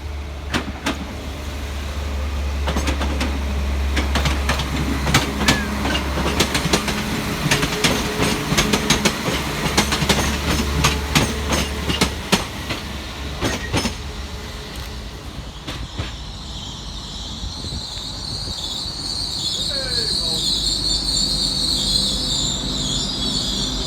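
A Great Western Railway class 802 bi-mode train, unit 802 007, pulls out of Gloucester station on a service to London Paddington, its engine rumbling steadily nearby while wheels clatter and squeal as it moves away.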